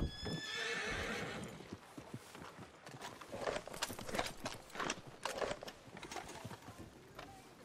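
A horse in the video game Red Dead Redemption 2 whinnies loudly at the start, followed by rhythmic clip-clop hooves and faint clanking gear as it moves off.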